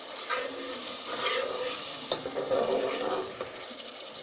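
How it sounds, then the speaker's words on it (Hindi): Onion and green chilli masala for an aloo moongre sabzi fries in a pan, with a moderate continuous sizzle and soft stirring scrapes and a single sharp tap partway through. "इसको भून लेंगे बहुत अच्छे तरीके से"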